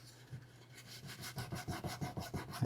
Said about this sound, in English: just essentially buff / sand. So I like to go at it in a diagonal fashion here and then go back the opposite way.